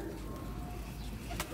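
A pigeon coos softly in the background of a pigeon loft, a faint low murmur against steady ambient noise, with a brief brighter chirp near the end.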